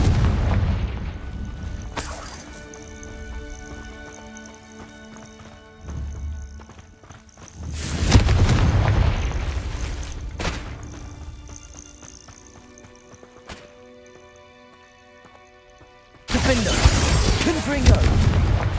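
Bombarda and Confringo explosion spells going off in the Hogwarts Legacy video game, heard as a few loud booming blasts spaced several seconds apart over a busy game soundscape with clattering movement.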